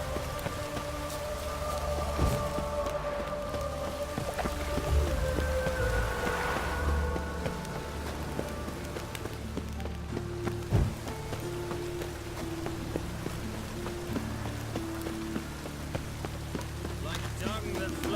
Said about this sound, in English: Rain. Perfect.